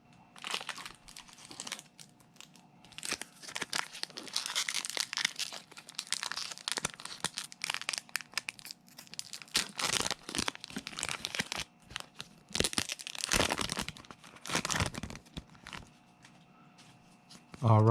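A Pokemon trading card pack wrapper is torn open and crinkled up close, with bursts of crackly rustling and handling noise across the clip and no talk.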